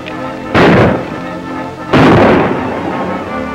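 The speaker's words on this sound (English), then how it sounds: "go find out who's doing that shooting and stop" Two loud, booming gunshots ring out about a second and a half apart in a 1944 black-and-white Western, Billy the Kid: Valley of Vengeance, each blast with a long echoing tail over a low background hum.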